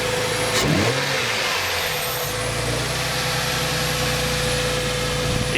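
A Dodge Intrepid with a 2.7 V6 and cold air kit idles steadily after a cold start, a loud, even engine drone with a brief rev-like swell near the start and a faint high whine throughout.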